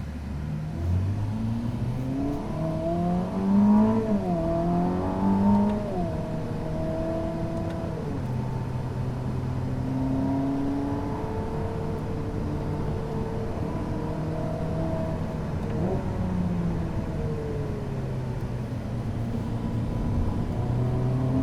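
A Ferrari SF90 Assetto Fiorano, with a V8 biturbo and three electric motors, accelerates hard on track, its engine note climbing and dropping through repeated gear changes over a steady rumble, heard from inside the car.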